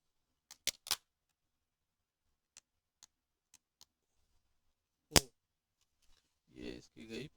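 Plastic wrapping is broken open on a Ubiquiti UniFi UAP-AC-HD access point box, giving a few sharp crinkles and snaps spaced across the stretch, close by, with someone talking briefly near the end.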